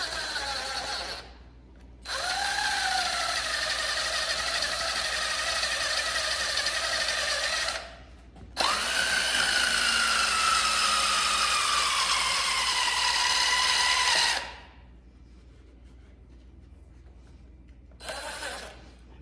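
A dual-action sander works over a small block Chevy engine during prep for paint, whining in two long steady bursts of several seconds each with a short gap between them and a brief restart at the end, loud and close.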